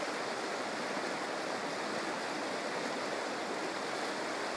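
Powder Mill Creek, a brook trout stream in Michigan's Upper Peninsula and a tributary of the Black River, rushes in a steady, dense broadband wash of flowing water, close and continuous with no voices.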